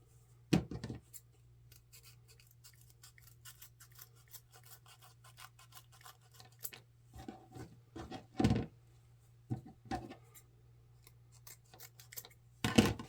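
Sharp scissor snips trim ribbon ends at an angle while making a winter snowman wreath; a handful of distinct close cuts land in small clusters over a quiet background hum, no talking.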